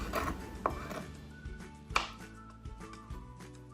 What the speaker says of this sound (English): Let's chop these up.